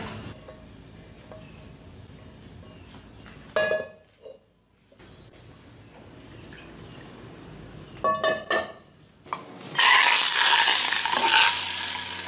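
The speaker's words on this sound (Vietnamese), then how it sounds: "Chảo nóng rồi em sẽ cho vào đây một miếng dầu ăn" Cooking oil hits a hot pan and breaks into a loud, bright sizzle near the end, after quieter clattering and stirring sounds from the pan.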